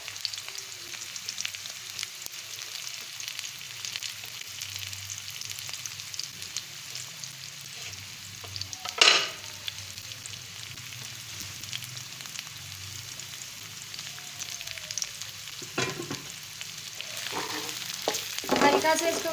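Chopped onion frying in a pan for a kidney bean curry, with a steady soft sizzle throughout, a few louder stirring scrapes and clatters, and no talk.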